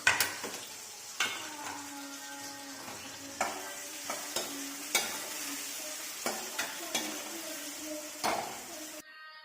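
Chukkakura greens and tomato fry and stir in oil in a pan, a steady sizzle broken by repeated scraping stirs and occasional clinks of a utensil against the pot, close and fairly loud.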